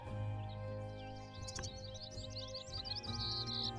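Brown-headed cowbird call in the Wingspan digital board game: bright, rising chirps and gurgling whistles repeat over a steady, sustained musical backdrop, moderately loud and in the foreground.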